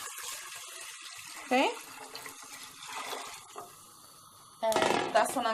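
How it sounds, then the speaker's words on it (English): Water poured into a pot of browning chicken soup, a splashing burst near the end with a brief earlier splash, heard close under a single spoken word. "Then we're going to throw some water in there."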